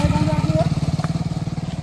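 A motorcycle engine idles nearby with a steady, pulsing throb under brief speech.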